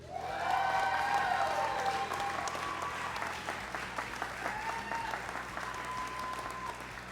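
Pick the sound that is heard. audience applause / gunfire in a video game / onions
audience applause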